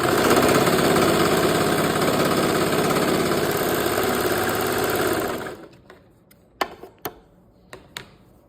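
A sewing machine runs steadily while stitching the side seams of a child's fall dress, loud and continuous for about five seconds, then stops, leaving a few sharp clicks and taps from handling the fabric.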